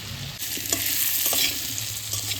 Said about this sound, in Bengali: আমার ওলটা আমি খুব সুন্দর করে ভেজে নিচ্ছি লাল করে